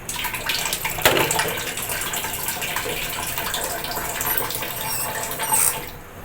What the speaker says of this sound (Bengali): যে দুধটা আমি গুলে রেখেছিলাম ওই দুধটা আমি দিয়ে দেবো